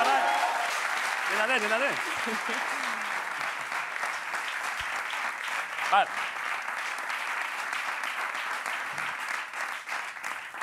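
A TV studio audience applauds loudly to welcome a guest, with sustained, even clapping, a few cheers, and brief talk from the stage partly over it.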